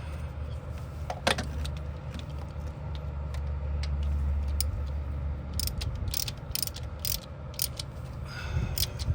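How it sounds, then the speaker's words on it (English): A wrench tightening the top starter bolt on a ZZE Toyota Corolla gives a run of quick ratcheting clicks and metallic taps, close up, over a steady low engine-bay hum. "we're going to sneak this wrench in here and get this top bolt tight and cinch down"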